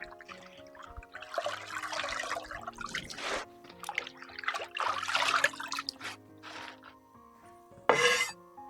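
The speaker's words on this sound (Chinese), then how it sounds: "然后给它捞出来，控水。" Rinsed mulberry leaves are lifted from a basin of water, giving scattered splashes and trickles as the water drains off, with a sharper burst of dripping near the end.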